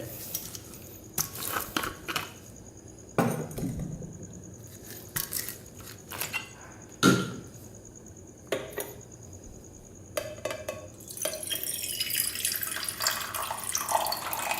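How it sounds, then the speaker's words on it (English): Distilled water pours into a beaker in bursts with brief splashes and trickles, close by, amid small clinks and a faint background hiss; no one speaks. "So first of all, I'm going to add some distilled water."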